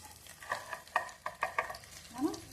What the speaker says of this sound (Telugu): అమ్మ ఫ్రై అవుతుంది ఫ్రెండ్స్, అది ఫ్రై అవుతుంది ఫ్రెండ్స్.